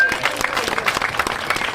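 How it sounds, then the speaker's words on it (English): An audience at an immigration debate in Abbeyville House, Fermoy, claps steadily in a dense, close round of applause that carries on throughout. "Huge round of applause there for Councillor William O Leary, everyone."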